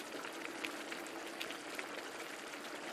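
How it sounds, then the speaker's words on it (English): Water boils in a pot while Mexican rice is being made, giving a faint, steady bubbling hiss scattered with small popping bursts. The sound is continuous and there is no talk. "you can see that it's bubbling pretty good"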